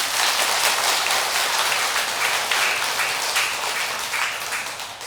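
An audience at a Buddhist dharma assembly in a large hall claps. The broad, even wash of applause holds steady throughout and fades slightly toward the end, with no voices.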